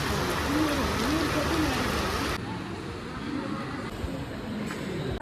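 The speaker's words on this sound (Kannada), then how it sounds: "ಮಳೆ ಜೋರಾಗ್ಬಿಟ್ಟು ಫುಲ್ ಮಳೆ ಬರ್ತಾಯಿತ್ತು." Steady, dense hiss of heavy rain falling throughout at Kukke, Karnataka, with a voice faintly audible under it at the start.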